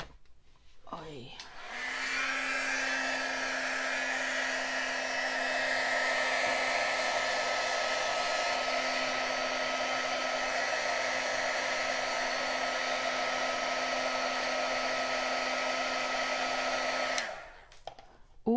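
Heat tool warming craft foil, a steady loud blowing whir running for about fifteen seconds, starting and stopping with a click.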